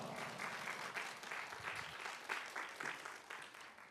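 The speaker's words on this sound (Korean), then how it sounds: "우리 천태성 목사님 나오실 때 우리 큰 박수로 목사님 맞이해 주셨으면 좋겠습니다." Church congregation applauding as the pastor enters, a dense, steady wash of many hands clapping that fills the room at moderate level for the whole stretch, with no speech over it.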